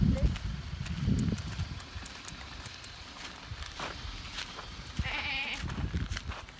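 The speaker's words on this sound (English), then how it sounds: "It's not a trip until we find some goats." Goats bleat a few times nearby in Greece, a higher-pitched call standing out near the end, over outdoor rustling and footsteps.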